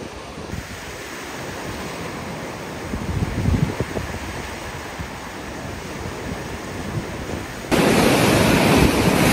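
Waves wash onto a beach near Praia do Forte, Bahia, Brazil, while wind buffets the microphone, a steady rushing roar that grows louder and harsher near the end.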